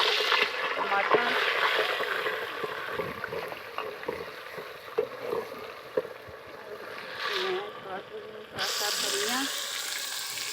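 Tomatoes go into a pan of browned onions frying, giving a soft sizzle and hiss with stirring scrapes, faint and close, while someone talks over much of it.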